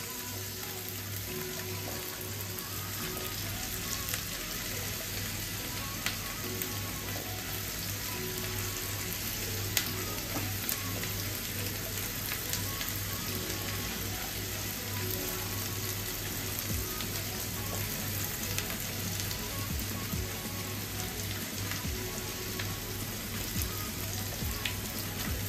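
Onions fry in a pan for an Ilish Korma, giving off a steady, dense sizzle with faint crackles and pops that carries on without a break and with no talk over it.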